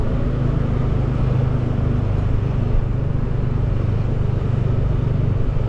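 Steady street traffic in Kuta, Bali, near Kartika Plaza: a continuous wash of car and motorbike engines passing close by, loud and unbroken without any speech.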